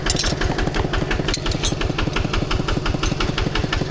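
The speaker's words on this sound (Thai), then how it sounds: "ได้ยินเสียงรถไถทุกคนเลย" A walking tractor engine runs steadily on a mountain trip, its single-cylinder chug pulsing in a fast, even rhythm close by with no talk over it.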